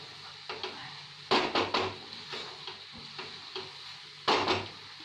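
Peas being stirred in a pan over a high flame, with a soft continuous sizzle under a few scraping strokes and sharp metallic clinks of a spoon against the pan, alone with no talk.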